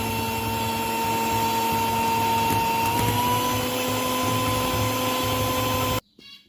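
An electric beater whips cream at second speed, a steady motor whine with a constant pitch that runs loud and even for about six seconds, then cuts off abruptly.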